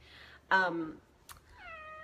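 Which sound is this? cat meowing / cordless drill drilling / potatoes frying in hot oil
cat meowing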